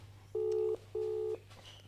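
Two steady electronic telephone ringback tones, each lasting under half a second with a short gap between, over a faint low hum.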